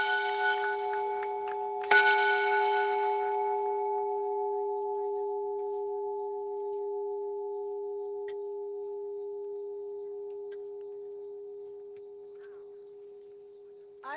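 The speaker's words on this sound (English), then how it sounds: "I ring this bell for all the victims of violence of any kind" A single bell rung in memory of victims of violence strikes once near the start, then rings on with a long, pure, steady tone that slowly fades over many seconds, with no voices.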